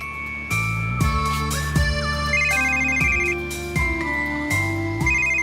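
A phone ringtone plays a bright, repeating electronic melody in regular phrases, loud and close, with no voices over it.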